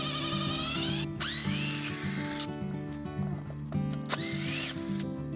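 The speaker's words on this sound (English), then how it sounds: "Next we added 3 stainless steel bands around the barrel and tightened them into place." A power tool tightens stainless steel bands around a barrel sauna, whirring in several close bursts that climb and drop in pitch as it starts and stops, with no speech.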